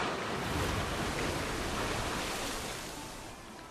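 A log flume boat splashing down into water in Planet Coaster, a broad rushing wash of spray that is loud at first and slowly fades over a few seconds.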